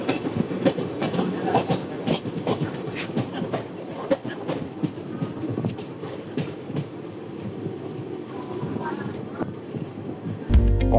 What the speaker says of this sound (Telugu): ట్రైన్లో వెళ్తున్నప్పుడు ఇలాంటి సౌండ్ వస్తే భలే వినటానికి బాగా అనిపిస్తుంది